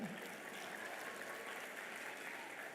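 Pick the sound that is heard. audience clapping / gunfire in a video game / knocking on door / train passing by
audience clapping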